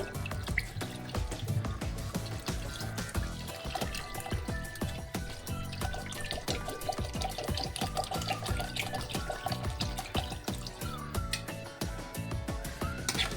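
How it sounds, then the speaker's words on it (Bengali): Water poured into a pot of Ambur chicken biryani, a continuous close splashing, trickling pour that stays fairly even for its whole length. "তারপরে জল দেবো। এবারে জল দেব।"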